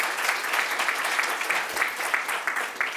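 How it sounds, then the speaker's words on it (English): An audience at the Australian Mental Health Prize event applauds, a steady, close wash of many hands clapping with a lively even rhythm and no break across three seconds. "A round of applause."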